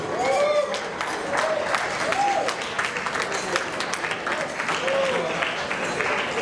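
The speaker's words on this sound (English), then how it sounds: "let's give them a big round of applause" Wedding guests applaud the couple, a broad wash of clapping and crowd noise with a few faint cheers and some talk underneath throughout.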